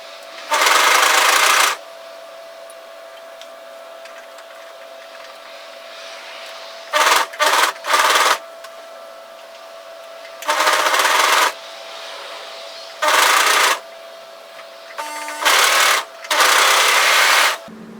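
A sewing machine stitches the cuff of a knitted yoke sweater in several short, loud bursts, each separated by quiet pauses while the fabric is stretched and repositioned.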